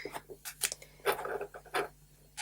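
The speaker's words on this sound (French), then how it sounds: "je vais utiliser mon cutter" A utility knife drawn carefully through material while making a desk spinner, giving a series of short scraping cuts in quick bursts, close and fairly quiet with no talk.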